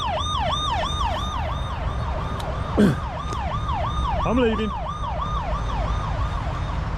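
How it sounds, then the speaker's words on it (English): A wailing alarm siren beside a field on a public footpath in Staffordshire cycles rapidly up and down, loud and continuous, with a brief voice and a passing squeal partway through. "I've set off an alarm by just walking along the field."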